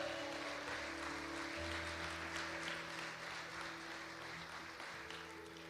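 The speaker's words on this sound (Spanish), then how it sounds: "Dale un aplauso al Señor" Congregational applause during a church sermon, a soft, steady wash of many hands clapping heard from some distance, faint and continuous with a low hum beneath.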